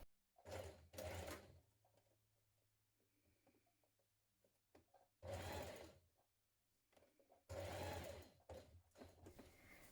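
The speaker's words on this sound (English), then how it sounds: "Now stitch them together at the side seams." A sewing machine runs in three short, quiet bursts of whirring stitches separated by pauses, sewing the side seams of a dress.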